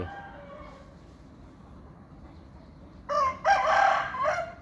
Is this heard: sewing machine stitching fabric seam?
no